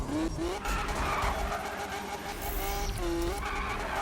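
Car tires skid and squeal in a long drift in the racing game Need for Speed 2015, a loud continuous screech rising and falling over engine roar, with a brief spoken remark over it.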